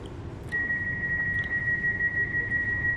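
Low rumble of an S21 S-Bahn train running toward Hamburg Hauptbahnhof, heard from inside the carriage, with a steady high whine joining in after the first half second and continuing throughout.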